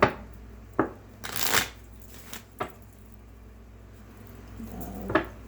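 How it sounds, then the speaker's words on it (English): Tarot cards being shuffled and dealt out in a quiet room: a few short crisp riffles, then one longer papery shuffling burst, followed by scattered soft slaps as cards are laid down. "Spirit, please give me the cards to clarify these as they're laid in order."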